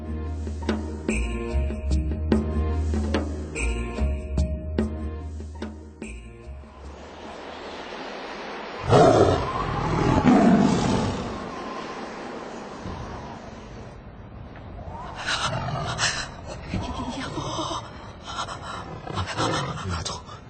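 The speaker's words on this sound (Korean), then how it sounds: "호랑이 소리잖아." A tiger roaring, a deep rough growl swelling loud midway and fading, following a stretch of music, with more rumbling snarls toward the end.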